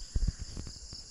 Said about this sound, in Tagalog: At maririnig nyo yung kuliglig.